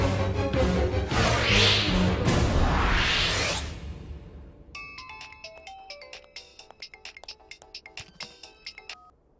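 Telephone ringing with a bright, repeating electronic ringtone pattern, loud and close, coming in after a few seconds of loud swooshing music and continuing alone to the end.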